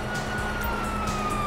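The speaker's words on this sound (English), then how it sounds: "Sirens." Police sirens in Grand Theft Auto V, a wailing electronic siren with rising and falling pitch over a rumbling engine and road noise, close and fairly loud.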